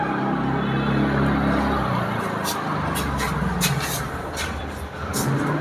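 Road traffic passes in front of a flat in Chinar Park, Kolkata, heard from the balcony as a steady engine rumble with a heavy vehicle drone early on and some hissy, clattering bursts later.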